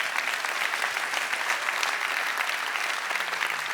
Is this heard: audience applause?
yes